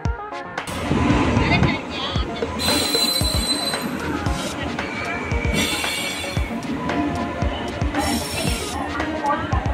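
A Jan Shatabdi passenger train pulling into a busy station, with wheel squeal, rhythmic rail clatter and metallic clanks over a steady background of crowd chatter.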